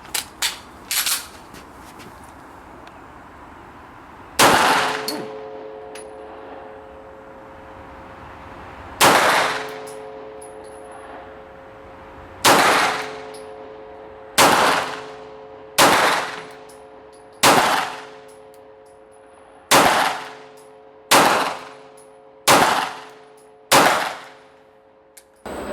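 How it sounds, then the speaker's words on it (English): Shots from an Arsenal Strike One pistol ring out one at a time, about a dozen loud, sharp cracks with ringing decay, spaced irregularly and then coming faster toward the end, with no talking between them. "what I think I'm going to do is put some rounds through it and see what all the fuss is all about"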